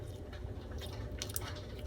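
Glow-in-the-dark slime squished and pressed by hand, giving soft wet squelches and light crackling pops, fairly close, over a steady low background hum.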